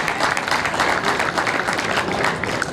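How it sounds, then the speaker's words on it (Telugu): A crowd honouring volleyball players and coaches at a police department event claps steadily in a dense, even round of applause that carries on throughout. "గట్టిగా ఒకసారి చప్పట్లు కొట్టాలి"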